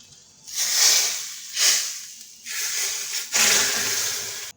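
Hot tadka of green chillies and red chilli is poured into lentil dal (whole masoor), giving loud close sizzling hisses in four surging bursts that swell and fade.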